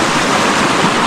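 Fast-flowing stream water rushing along a hiking trail on the Blue Wall Passage of the Palmetto Trail, a steady, loud broadband roar with no break.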